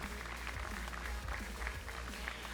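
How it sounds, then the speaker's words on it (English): Audience applause at a motorsport season launch event in Monaco, honoring the Automobile Club de Monaco and its historic rally: steady, dense clapping throughout, moderately loud and evenly sustained. "Round of applause."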